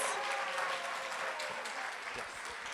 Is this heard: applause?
yes